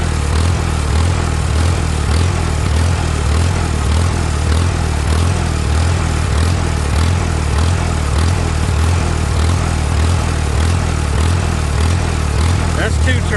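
A small engine fitted with a Chinese carburetor runs at full throttle with no choke, its loud, close drone surging up and down in a steady rhythm for the whole stretch.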